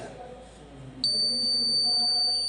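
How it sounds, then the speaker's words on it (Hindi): A water level alarm buzzer on a school math-club model switches on partway through, holding a steady high electronic tone over faint background voices. "पानी अगर पूरा ऊपर भरा हुआ है तो अलार्म बजना शुरू हो जाएगा"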